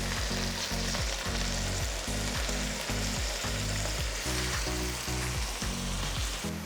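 Keema with tomato paste sizzles steadily in a pan over high heat, a constant loud frying hiss with rhythmic low scraping strokes of stirring repeating throughout.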